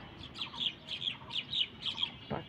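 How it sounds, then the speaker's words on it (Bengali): Birds call outdoors on a sunny morning among blooming flowers, giving about seven repeated bursts of bright chirps and squawks in a steady rhythm, fairly close and clear, with no voices. "পাখি"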